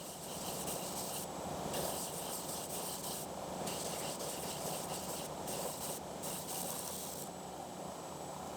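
A spindle sander rounds the corners of a wooden box lid, a steady abrasive rubbing hiss with motor drone that rises and eases in short passes, fairly quiet and without talk.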